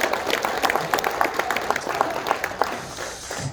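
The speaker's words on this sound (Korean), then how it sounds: "우리 정강훈 목사님의 말씀부터 큰 박수로 청해드리겠습니다" Audience applause at a public citizens' hearing in a press center, a short burst of scattered, fairly close hand claps with uneven rhythm that thins out toward the end.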